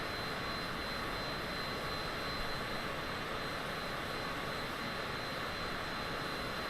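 Cessna Citation private jet engines in Microsoft Flight Simulator 2020, a steady, even jet roar held at constant level throughout, like cruising flight with no pauses or other sounds.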